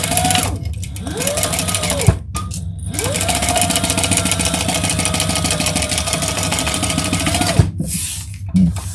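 A sewing machine stitches pieces together at the seam allowance, running in two sustained whirring bursts with a brief pause between them and a short stop near the end, close and loud with no talking.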